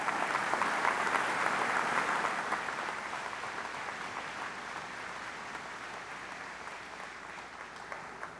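Sustained applause from a commencement audience welcoming Lord Nicholas Phillips, dense and steady at first, then easing slightly and continuing evenly to the end with no talk over it.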